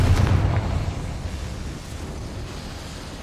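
Confringo fire spell in Hogwarts Legacy, one deep explosive blast that opens loud and then rumbles away into a fading roar.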